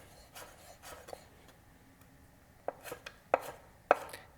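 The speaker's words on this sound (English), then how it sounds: "I'm slicing them sort of into the julienne before I turn them into dices, and then I come back and do my dicing." A knife dices potatoes on a cutting board, quiet scattered taps early, then a few sharp distinct chops close by with no talking.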